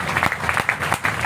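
An audience at a clerks' union rally in Sirsa claps in a brief burst of uneven, overlapping hand claps, moderately loud and without speech.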